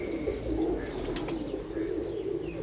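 A red-eyed female pigeon coos in low, soft, repeated calls at close range, with faint chirps and a brief flutter of wings in the background.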